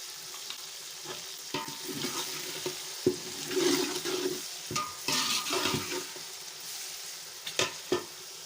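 Tomatoes frying with garam masala and salt for a beef yakhni pulao, a steady sizzle broken by repeated scraping stirs and clacks of a spoon against the pot, close by with no voices.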